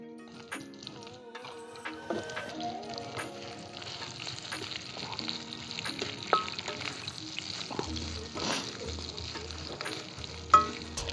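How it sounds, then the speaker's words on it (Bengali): Vegetables for chapor ghonto are lightly fried in a pan, a soft, quiet sizzle with occasional utensil clicks beneath faint background music. "এগুলোকে আমরা একটু ভেজে নেব"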